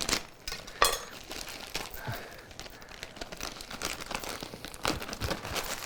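A one-pound plastic bag of frozen vegetables is cut open, giving close crinkling and tearing plastic rustles with a few sharp crackles and a brief clink, no talking.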